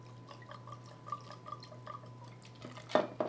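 Tequila poured over ice in a glass makes quiet drips and trickles, then a louder splash and clink of ice near the end, faint and close.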